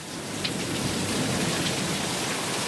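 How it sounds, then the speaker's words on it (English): Heavy rain pours steadily during a thunderstorm, with gusty wind pushing it along; a dense, constant roar of water striking surfaces fills the scene with no talking. "We had the very heavy rain, and then we got the kind of the outflow"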